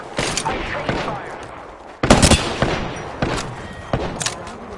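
Gunfire in an online shooter video game comes in loud, close bursts and single sharp shots, with a heavy volley near the middle, while a voice speaks over the action.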